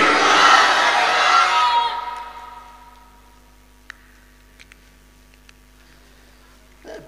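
A rally crowd roars its takbir response in a loud, massed shout that swells for about two seconds and then dies away, leaving near-silence broken by a few faint clicks.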